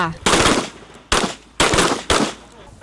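Pistol shots at a shooting training session for prison guards, four loud close reports with long booming echoes, spaced roughly half a second apart and heard without speech.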